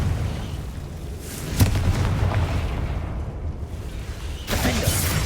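Confringo fire spell blasts in the Hogwarts Legacy video game, a couple of sharp booming bursts with crackling tails over a steady game ambience, loud and close.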